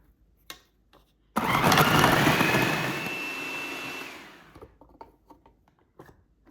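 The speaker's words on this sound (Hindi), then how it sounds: "दो ब्रेड के पीस इनको पीस लेते हैं" Electric kitchen grinder pulverising two slices of bread into crumbs, a loud steady whirring roar lasting about three seconds that then winds down, with a few small clicks before and after.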